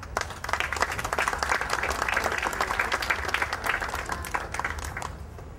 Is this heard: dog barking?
no